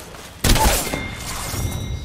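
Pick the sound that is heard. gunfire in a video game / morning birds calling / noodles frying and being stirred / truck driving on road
gunfire in a video game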